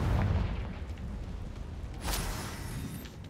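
A deep, rumbling boom from the Confringo spell in the Hogwarts Legacy video game, with a second burst and crackle a moment later, loud and close.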